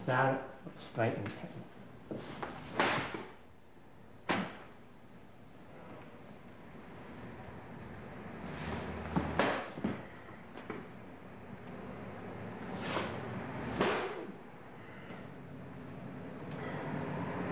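Back-of-palm strikes in iron palm martial arts training land as sharp, fairly loud slaps at irregular intervals, some close together, over a low, breathy background with a voice at times.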